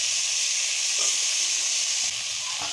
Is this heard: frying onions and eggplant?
yes